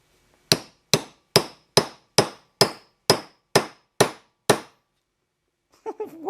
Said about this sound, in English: we'll get a light hammer to just kind of lightly tap it into its place.